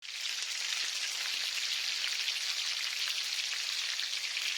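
Beef koftas fry in hot oil in a pan, cooking on their second side, with a loud, steady, dense sizzle and fine crackle running unbroken from start to finish, no voices.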